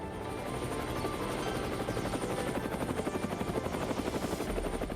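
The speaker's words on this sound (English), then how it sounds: "The best solution to keep things up kind of were helicopters." Helicopter flying near Franz Josef glacier, New Zealand, a steady rotor drone with rhythmic blade chop that grows more pronounced midway, moderately distant and alone.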